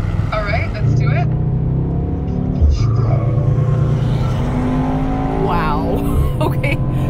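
A 2021 Mercedes-AMG E63 S in Sport Plus mode, its engine note a deep steady drone with rising and falling pitch as it accelerates, heard from inside the cabin under someone talking.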